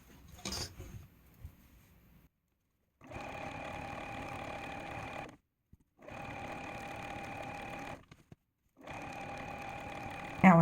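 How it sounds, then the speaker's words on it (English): Sewing machine stitching binding along the edge of a table runner, three steady runs of motor hum and needle clatter separated by brief pauses, close and clear. "lift up our presser foot, and start sewing straight down."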